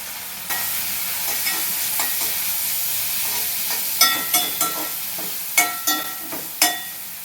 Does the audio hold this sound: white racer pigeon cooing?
no